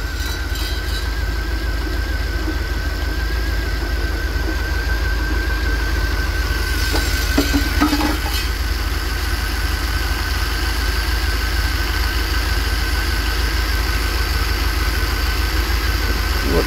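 A warmed-up 1990 Chevy G30 van engine idles steadily up close, a continuous even rumble with a constant whine and brief clatter near the middle, no talking.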